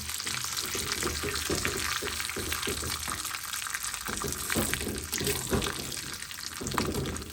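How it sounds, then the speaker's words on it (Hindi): Chicken pieces for butter chicken fry in a pan, giving a steady, fairly faint hiss and crackle with light stirring sounds throughout. "जो और चिकन है उसको भी डालकर फ्राई कर लेते हैं।"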